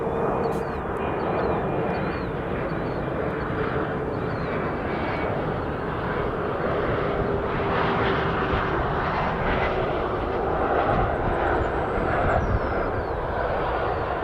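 Endeavor Delta Connection RJ900 regional jet at Toronto Pearson airport, a steady broad roar of jet engines sustained at moderate distance throughout.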